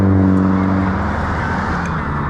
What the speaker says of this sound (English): I can't hear myself talk over cars.